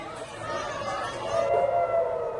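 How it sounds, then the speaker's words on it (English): A steady wailing air raid siren sounds over a low murmur of passengers inside Ben Gurion International Airport in Tel Aviv. "Air raid sirens inside Ben Gurion International Airport as passengers were directed to secure spaces."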